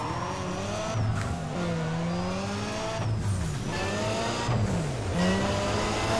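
A car engine revving hard during a drag race in Need for Speed ProStreet, pitch climbing through repeated gear shifts with some tire squeal, loud and continuous without talk.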